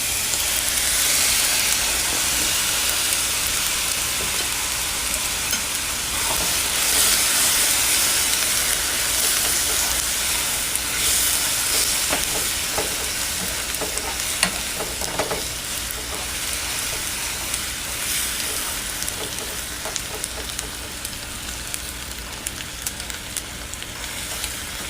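Chicken sizzles steadily in a hot pan as sweet teriyaki sauce goes in, giving a loud continuous fry and hiss with scattered crackles and pops, close and alone with no talk.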